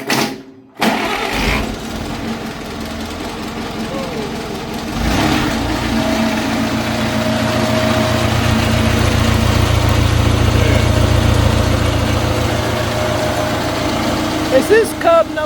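An old Farmall Cub tractor engine is cranked unchoked and catches, settling into a steady, loud mid-pitched idle close by, with brief clatter at the start.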